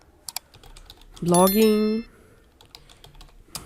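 Keywords typed on a computer keyboard: a few sparse, light key clicks close by, with a brief spoken word in the middle.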